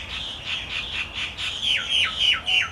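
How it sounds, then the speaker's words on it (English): Birds squawk and call repeatedly in short bursts, fairly close, over a quiet outdoor background. "And the birds are going."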